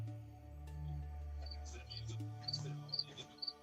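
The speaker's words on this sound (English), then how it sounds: "the crickets" A cricket sound effect gives short, bright, repeated chirps that grow busier toward the end, set over a low steady hum with voices talking.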